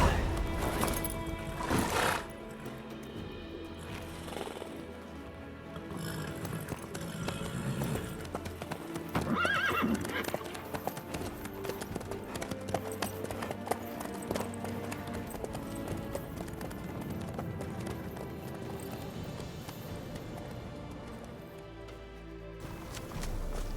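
Horse hooves clip-clop in a steady walking rhythm in The Witcher 3 video game, with a whinny and occasional snorts, while voices talk over the plodding steps.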